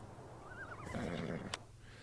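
Horses neighing in Farming Simulator 19, a loud, close whinny rising and wavering for about a second, followed by a sharp snort, with no talk.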